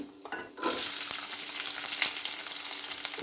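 Onions hit a hot pan for mushroom gravy and a loud sizzle bursts up after a brief quiet moment, then keeps frying steadily and close with faint stirring.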